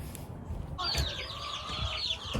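Homestead chickens cluck and chatter close by in a continuous run of short calls, with soft background noise and a few light bumps.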